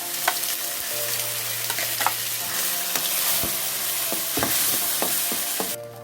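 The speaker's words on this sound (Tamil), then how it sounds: "அரைச்ச அந்த விழுதை சேர்த்து நல்லா வதக்கிக்கலாம்." Ground paste, fennel and a bay leaf sauté in hot oil in a pan for sambar, a steady close sizzle and fry with occasional scrapes and stirs of a spoon.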